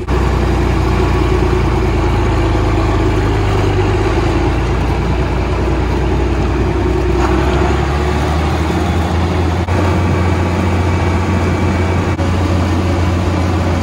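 A John Deere 9RX tractor engine runs at a steady, loud low rumble in cold weather, its deep drone continuous and alone, with a shift in pitch partway through.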